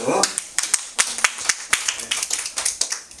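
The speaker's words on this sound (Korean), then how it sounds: "앞에 박수" A small group claps at a Korean lecture on book making, sharp individual claps scattered and uneven rather than a dense roar, close and fairly loud.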